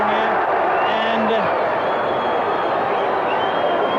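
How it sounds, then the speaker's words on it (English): A cricket stadium crowd roars loudly and continuously through a Pakistan versus South Africa match, with a commentator's voice over the broad wash of noise. "There's a roar from the crowd."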